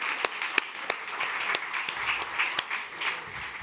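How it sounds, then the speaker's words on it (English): An audience at a Garma panel applauds to welcome Justin Mohamed, a steady patter of many hands with a few sharper individual claps standing out, moderately distant and alone. "he does deserve a round of applause"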